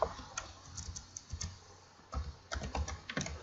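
Username and password being typed on a computer keyboard, with quiet, uneven bursts of key clicks that speed up and pause, fairly close.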